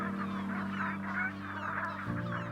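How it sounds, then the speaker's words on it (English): Flocks of barnacle geese wintering on the North Sea honk in overlapping calls, a busy chorus of nasal yelps over a steady low hum, moderately close and continuous. "They arrive in flocks from Siberia and Scandinavia. Barnacle geese."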